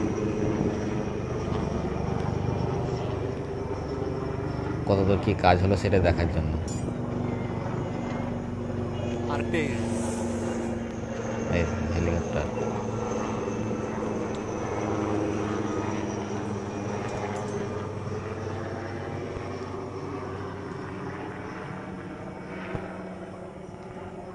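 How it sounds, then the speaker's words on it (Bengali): Two helicopters drone overhead together in a sustained, steady roar, with a person talking beneath the noise. "ওপরে হেলিকপ্টার দু দুটো হেলিকপ্টার একসঙ্গে আসছে"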